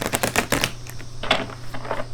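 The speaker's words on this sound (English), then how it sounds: "One more shuffle, please." Cards riffle and snap in quick bursts, a rapid papery flutter near the microphone, then softer shuffling taps.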